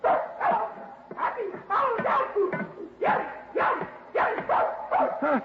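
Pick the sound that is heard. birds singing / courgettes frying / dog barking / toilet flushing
dog barking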